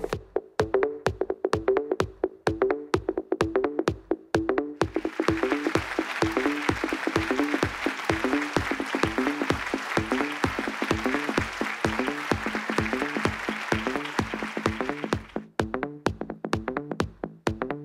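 An awards ceremony audience applauds a realty brand with sustained clapping, the crowd swelling to a dense, even roar for about ten seconds before tapering, with steady rhythmic pulses running underneath throughout.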